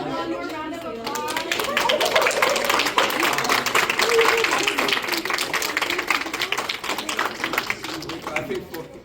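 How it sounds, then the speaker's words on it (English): A crowd at a youth leadership summit breaks into dense, steady applause that holds loud through the whole stretch, mixed with cheering voices and chatter. "Can we get Saul one more round of applause?"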